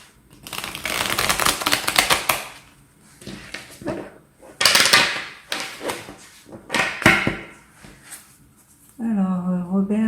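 A Light Shears tarot deck is shuffled close up in several rustling, riffling bursts separated by short gaps, followed by a person speaking at the end.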